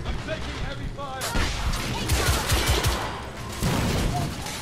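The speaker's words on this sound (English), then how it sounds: "I'm taking heavy fire." Heavy, sustained gunfire and explosive blasts from the third-person shooter The Order 1886 on PS4, loud and continuous with a steady crackle of shots, while a voice talks underneath.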